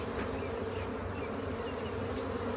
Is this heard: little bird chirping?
no